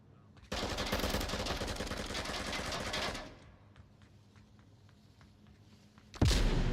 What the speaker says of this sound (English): artillery strike from James in the far northeast